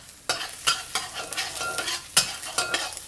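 Minced young ginger sizzles in hot oil in a pan over medium heat, a steady frying hiss broken by several sharp stirring scrapes and clatters, close and fairly loud with no talking.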